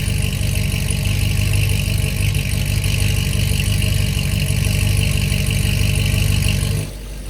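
A C6 Corvette V8 fitted with long tube headers idles with its exhaust valve closed, a steady deep rumble that fills the clip, loud and close, dropping abruptly in the final half second.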